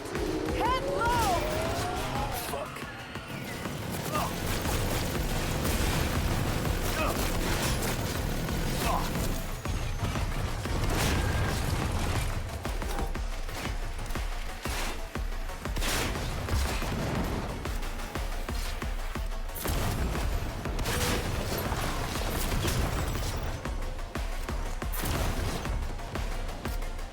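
Sustained turret gunfire and explosions rage through a Cyberpunk 2077: Phantom Liberty firefight, dense and loud throughout, with bursts, impacts and mechanical clatter layered over shouted voices.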